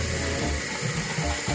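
A toilet flushes and then refills quickly after a fill valve replacement, giving a steady rushing of water close by with no talking.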